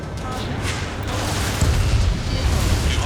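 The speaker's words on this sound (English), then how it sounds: "So many freaking missiles." Missile explosions in the aerial combat game Ace Combat 7, heavy booming blasts over a continuous jet roar, with a louder burst coming partway through.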